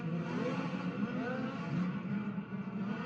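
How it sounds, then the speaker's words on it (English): Distant race car engines at the Chili Bowl Nationals midget dirt-track race drone and whine in a continuous, slightly shifting roar, heard from afar without a clear pass-by. "Something sounds different about the timber of the engines at the moment out there"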